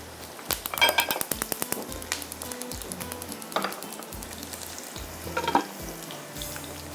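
Onions fry and brown in a pan with a soft continuous sizzle, broken by clattering stirs and scraping, moderately close.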